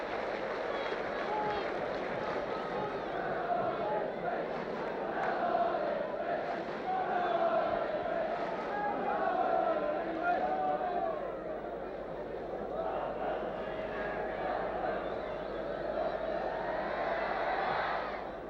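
A 1970s football crowd roars steadily at an Ipswich Town vs Tottenham Hotspur match, a dense, continuous wall of cheering and chanting that swells and dips slightly, with a commentator's voice running over it.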